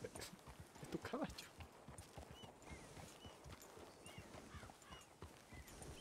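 Horse hooves clop at a steady walking pace in a Western ranch roleplay video game, a busy run of soft repeated steps with people talking over them.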